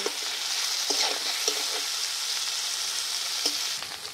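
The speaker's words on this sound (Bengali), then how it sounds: "আমি করলাটা হালকা করে একটু ভেজে নেব।" Sliced bitter gourd with salt and turmeric fries in a pan, a steady close sizzle with occasional stirring clicks and scrapes.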